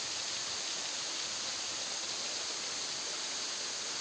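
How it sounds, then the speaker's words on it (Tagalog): A waterfall heard as a dense, steady rush of falling water, continuous and loud with no breaks or other sounds. "Itong falls dito sa amin"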